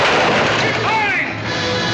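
Gunfire and heavy booms erupt in a battle, a loud, dense barrage with shouting voices and a whistling tone mixed in.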